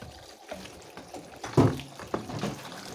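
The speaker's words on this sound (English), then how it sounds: "I'll wash the nduma until the water runs clear" Arrowroots (nduma) being washed by hand in water, with sloshing and splashing, one louder splash near the middle, and a few smaller splashes and trickles in a quiet room.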